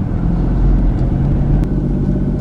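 A car drives through a residential area of a small rural Ohio town, heard from inside as a steady, loud low rumble of engine and road noise with no talking.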